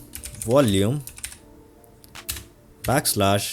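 Someone types a terminal command on a Mac keyboard, with short bursts of soft keystroke clicks falling in the pauses between stretches of a man's speech.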